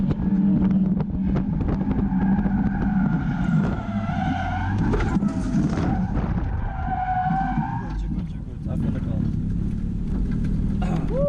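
A Mazda Miata on the Nürburgring skids in a near crash on its final lap, loud engine roar and wavering tire squeal close in the car, with talking underneath.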